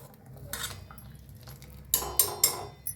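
A spoon clinks and scrapes in a pot of egg curry, with a few quiet knocks early on and then three sharper metallic taps close together near the end, fairly faint.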